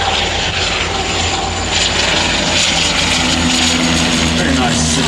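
Dash 8 turboprop airliner flying a slow handling display pass at the Omaka air show: a steady, loud propeller and engine drone with a low hum, while a commentator speaks over it.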